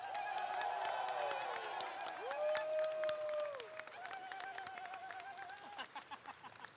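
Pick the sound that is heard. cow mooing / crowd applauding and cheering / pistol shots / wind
crowd applauding and cheering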